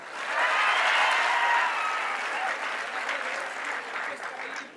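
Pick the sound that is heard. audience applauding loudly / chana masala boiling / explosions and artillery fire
audience applauding loudly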